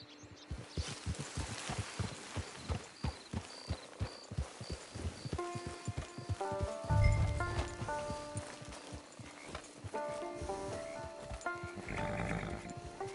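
Horse hooves clip-clop in a steady walking rhythm from the game Red Dead Redemption 2, close and distinct, fading under a swell of game music and ambient noise in the second half.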